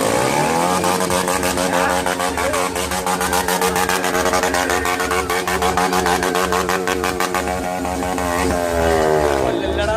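KTM motorcycle engine idling and revving nearby, a rapid throbbing pulse with rising and falling revs that holds steady for several seconds before climbing again, with voices mixed in at times.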